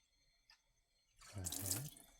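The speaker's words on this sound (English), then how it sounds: "we're going to go ahead and fill up our tank of water so we can brew our coffee" Water runs from a tap into a coffee machine's water tank, starting after a quiet pause and a faint drip, then a steady close splashing stream that fills the second half.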